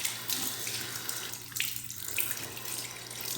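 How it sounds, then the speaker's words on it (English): Warm tap water runs steadily into a sink for washing the face during a home skincare routine, a continuous close splashing hiss with no voices. "we're gonna start with washing our face 2 times with warm water"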